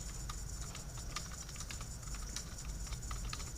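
Rapid clicking keystrokes on a computer keyboard type out a MySQL command, close and steady with no talking.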